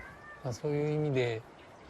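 A cat gives one drawn-out meow up close, preceded by a brief short chirp, with a quiet background and no other sound.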